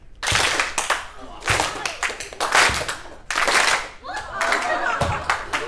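Children clap their hands in repeated bursts during a ball-bouncing game in a school setting, several sharp rounds of claps separated by short pauses, with an adult voice speaking between them.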